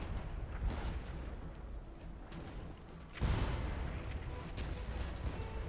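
Ship cannon and mortar fire booms in the pirate naval game Blazing Sails, with heavy low blasts and rumbling impacts over continuous sea and battle noise, a particularly loud burst arriving midway.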